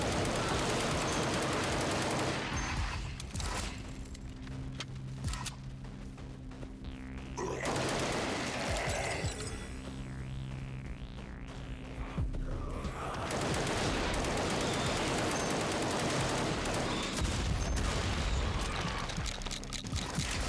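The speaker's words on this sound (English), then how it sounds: "the shotgun in this game sounds so meaty" Heavy shotgun blasts from the video game Project Warlock II, fired in quick bursts amid a dense, continuous wash of in-game gunfire and combat noise that stays loud throughout with no talking.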